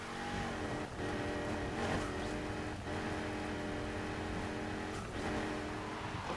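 Loud, noisy car exhaust and engine from a drift-capable car in the racing game Need For Speed: Heat, droning steadily throughout with brief revving swells and no talking.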